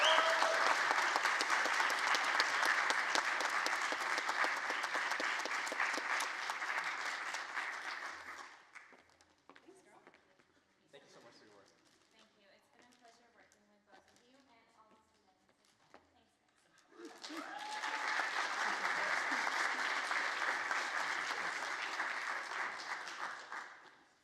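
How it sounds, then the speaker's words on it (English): Audience applause at a student presentations event, loud broadband clapping for about eight seconds, a quieter gap with talk, then a second strong burst of clapping near the end. "So Ina, if you can come up here And if everybody could please give a huge round of applause"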